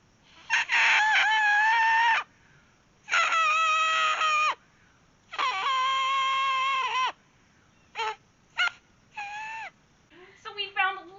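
A blade of grass held between the fingers is blown to make shrill squealing, crowing-like tones in several loud bursts, some long and wavering, others short and sputtering, close by.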